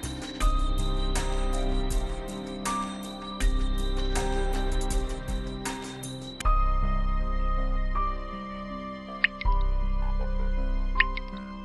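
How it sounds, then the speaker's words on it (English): Water drips steadily inside a stalactite cave near Ba Be Lake, clear separate plinks ringing out at a slow, irregular rhythm with a long resonant echo in a quiet space. "Dripping water creates a steady sound that makes me think about the persistent ticks of time"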